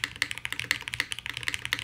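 Rapid keystrokes on a newly built Bina 103 mechanical keyboard, crisp clacky presses in a quick irregular rhythm, close and clear with no talk.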